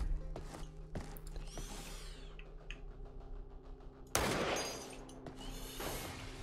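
Gunfire in the shooter game Receiver: several sharp shots crack out at irregular intervals, with one loud blast near the end followed by a decaying tail.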